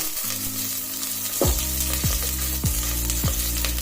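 Onions and green chillies with cumin frying in hot oil for sambar, a steady close sizzle throughout with several sharp stirring scrapes or clinks at regular intervals.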